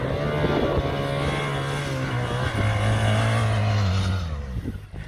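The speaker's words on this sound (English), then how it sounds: "Now on the gas in the deep sun, and Nico is taking off." A BMW GS motorcycle accelerates hard off-road in Namibia, its engine roaring loud and close with rising and shifting revs, buffeted by wind noise, before easing off at the end.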